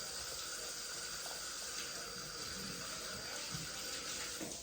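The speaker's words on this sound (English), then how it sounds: "I'm going to wash my hands one more time." Hands are washed under a running tap while cooking a Thanksgiving meal, a faint, even stream of water hissing steadily throughout.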